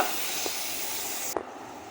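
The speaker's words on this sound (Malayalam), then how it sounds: "സവോള ഇട്ടതിന് ശേഷം ഒന്ന് ജസ്റ്റ് ഒന്ന് ഇളക്കി കൊടുക്കുക" Finely chopped onion sizzles in a hot pan with a continuous close hiss, broken by a couple of quick stirring clicks before the hiss cuts off.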